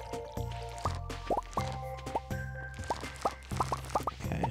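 Watering crops in the farming game Stardew Valley: a string of bright, bubbly water plops and drips, repeated every half second or so over a steady low game music bed.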